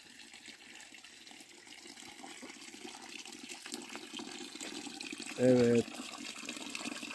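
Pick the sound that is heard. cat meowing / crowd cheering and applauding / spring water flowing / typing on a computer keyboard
spring water flowing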